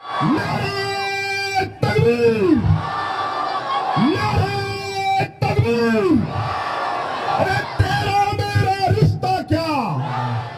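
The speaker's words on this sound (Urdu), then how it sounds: "بیانات کے دوران نعرے سے عیدگاہ میدان گونج اٹھا۔" A large crowd shouts slogans in loud, surging unison waves at the Eidgah rally ground in Nanded during a prayer gathering for Palestine and Al-Aqsa, voices rising and falling in repeated chant bursts with brief pauses between.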